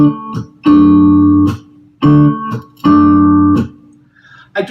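Acoustic guitar strummed chords broken up by sharp percussive hand slaps on the strings that mimic a snare drum, loud and close, in three bursts with short pauses between.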